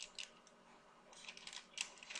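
Fast clicking of a computer keyboard as JavaScript code is typed, irregular bursts of keystrokes close and fairly quiet, with no talking.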